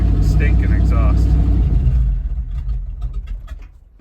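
A 1979 Dodge W150 Roundup pickup, restarted after sitting for over fifteen years, runs with a loud, deep engine rumble that eases off after about two seconds, with a voice talking over it.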